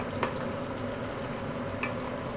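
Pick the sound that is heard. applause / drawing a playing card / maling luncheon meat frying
maling luncheon meat frying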